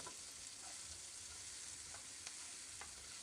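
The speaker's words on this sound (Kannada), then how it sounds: "ಮುಂದೇನು ಅಂಚೆನೆ ನಮ್ಮ ಹದ ಕೆಂಪು ಬಣ್ಣ ಮುಟ ಒಂಚೂರು ಫ್ರೈ ಮಲ್ಪೊಡು" Chopped onions fry in oil in a pan, giving a steady, dense sizzle with no pauses and a few faint stirring clicks, all fairly close and uninterrupted by any voice.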